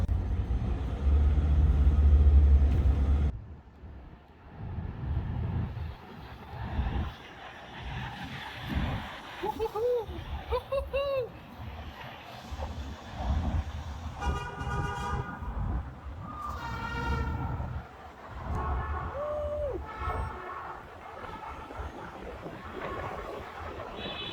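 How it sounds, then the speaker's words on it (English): Riding on the back of a truck through the Zion-Mount Carmel Tunnel on a Utah highway: a loud low vehicle rumble that drops away after a few seconds, then echoing road roar with scattered horn toots and whooping voices. "got a fantastic ride through the tunnel on the back of a truck"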